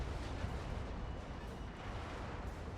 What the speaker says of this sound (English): They fired indirect on our Panther.